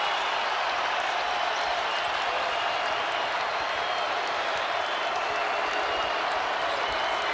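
Basketball arena crowd at a North Carolina vs Syracuse game roaring and applauding in the closing seconds, a dense sustained wall of cheering and clapping that stays loud and steady throughout.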